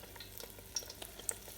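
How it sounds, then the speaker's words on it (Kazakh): Egg-coated eggplant slices fry in hot oil, giving a faint, soft sizzle with scattered small crackling pops. "Қызып тұрған майымызға"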